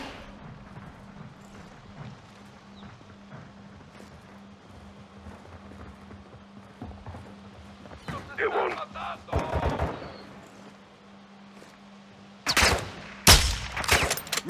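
Gunfire in the Call of Duty Modern Warfare 2 remake from 2022, quiet scattered pops early, then a few loud sharp bursts near the end over a low steady hum.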